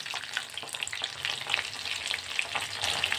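Bhetki fish fingers fry in hot oil, giving a continuous bright sizzle with scattered crackles and pops, steady and close, with no voices.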